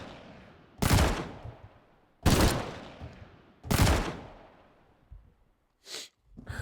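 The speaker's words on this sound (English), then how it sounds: "Fucking gunshots for Elon" Three loud, sharp gunshots from a gunfire sound effect, evenly spaced about a second and a half apart, each trailing a long echoing decay, followed by a brief softer burst of noise at the end.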